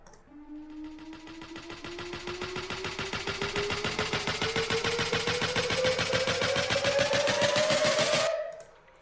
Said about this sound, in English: and then a riser, which sounds like this